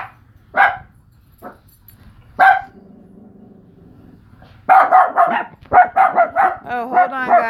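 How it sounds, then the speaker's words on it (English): A dog barks near the mic in short bursts, then breaks into a rapid run of loud barks in the second half, with a person talking briefly in between. "Sorry for the barking."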